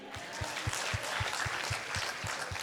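An audience at a Baptist church Easter concert applauds a violinist, with a full rush of clapping carried by an even, regular pulse of low thumps, as though the crowd claps together in rhythm.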